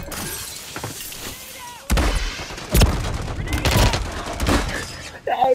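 A grenade blast and bursts of gunfire ring out in a Call of Duty MW3 duos match, loud sharp cracks and booms arriving in several clusters with game noise between them.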